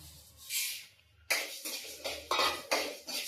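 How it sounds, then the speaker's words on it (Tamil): Coriander seeds are dry-roasted in an empty kadai with no oil. A series of sharp metallic scrapes and clatters follows a quieter rustle, close and fairly loud, with no talking. "தனியாவை வறுத்து எடுத்துப்போம்."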